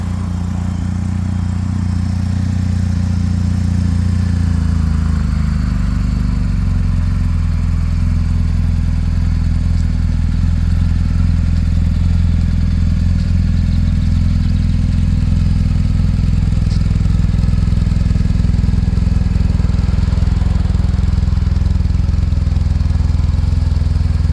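A 2019 BMW R1250 GS Adventure motorcycle engine idles loudly and steadily nearby, its deep rumble holding constant with only slight shifts throughout.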